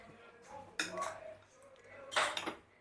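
A spoon mixing a cooked maize dish in a metal pot, soft scraping broken by two bursts of clinking and scraping against the pot.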